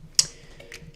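Keys on an Aula F2088 RGB mechanical keyboard click sharply, one crisp keystroke followed by a softer second tap, close and clear with no talking.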